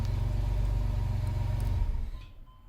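A Pontiac Fiero engine keeps idling with a low, steady pulsing rumble after the key is turned off, then sputters and dies away into quiet near the end.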